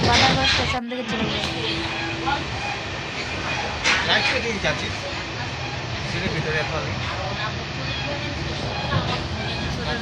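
Asansol to Bardhaman MEMU passenger train running near Panagarh station, a continuous rumbling, rattling roll from inside the carriage with metallic clatter and a brief dropout near the start, while people talk over it.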